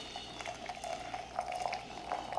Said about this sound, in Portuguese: Eu vou utilizar esse copo medidor, vou colocar aqui 200 ml de água.